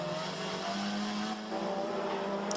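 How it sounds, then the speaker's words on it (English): A Citroen touring race car in the 2014 WTCC race at Spa-Francorchamps, driven hard, gives off a loud, steady engine roar that holds its pitch and then shifts slightly as it pulls away. "This Citroen clearly responds to being driven hard here."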